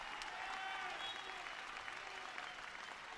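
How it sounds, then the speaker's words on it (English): A basketball crowd applauds at a Vermont versus Harvard game, with steady dense clapping and crowd noise for several seconds and faint commentary beneath it. "who gets a fist pump and an applause from this crowd"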